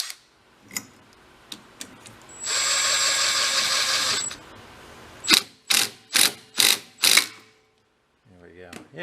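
A socket wrench runs a bolt into a trashed 1970 Benelli mini bike: a sustained whirring burst, then five sharp close clicking bursts in quick rhythm, with faint voices at the end.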